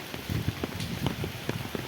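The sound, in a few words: light drizzling rain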